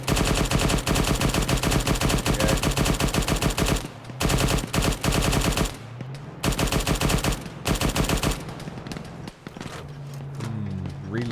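An M2 heavy machine gun mounted on an off-road vehicle in ArmA 3 fires long, rapid, loud bursts with a few short pauses, while engine noise rumbles underneath.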